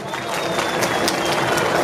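Live audience applause at a rural Peruvian folk-humor comedy show in Ecuador: a dense, steady wash of clapping from a crowd, sustained and fairly loud throughout.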